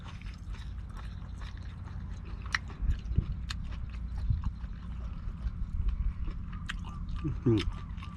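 Crunchy chewing and biting while eating Thai ohm khi lek curry with salted hide, a few sharp close bites over a steady low background, with soft talk faintly present.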